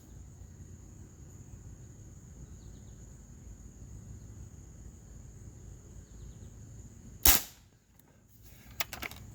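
A single sharp crack from a Springfield Armory M1A .22 caliber spring piston air rifle, loud and close, follows a long quiet stretch with faint insect chirping and is trailed by a few small clicks.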